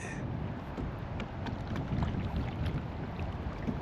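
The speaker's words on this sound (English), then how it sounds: "So now I am fighting the wind. You can probably hear it." Strong headwind roars steadily across the microphone on a solo kayak trip on Twin Creek in Germantown, Ohio, a dense, continuous buffeting rush with no talking.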